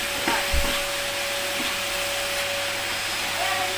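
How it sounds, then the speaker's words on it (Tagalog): A vacuum cleaner runs steadily indoors, a loud continuous whooshing hum with a fixed whine throughout, and a few faint knocks early on. "Nag-vacuum ka ba dito?"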